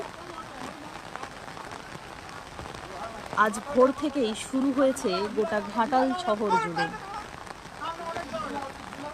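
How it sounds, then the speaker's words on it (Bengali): Heavy monsoon rain during Durga Puja hisses steadily on surfaces throughout while a person talks over it. "আবারও এই মুষলধারে বৃষ্টি"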